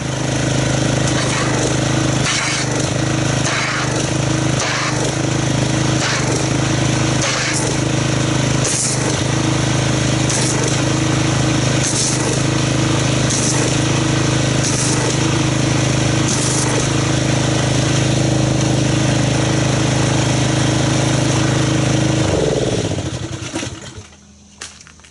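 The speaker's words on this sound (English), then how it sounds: "let's get our pressure washer and see what kind of foam we get" A pressure washer runs at a steady loud drone while it mixes car soap into foam, with a harsh mechanical buzz and rhythmic pulsing, before cutting out abruptly near the end.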